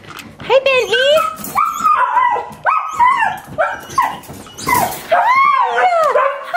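Excited puppies bark, yip and whimper almost continuously up close in a home, high squeaky cries rising and falling, while someone talks over them.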